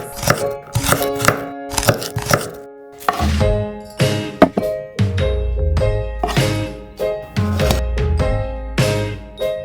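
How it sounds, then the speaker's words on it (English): Garlic being chopped into small pieces on a board: sharp, close knife strikes in quick rhythmic bursts separated by short pauses, with occasional lighter taps and clinks. "First, chop the garlic into small pieces."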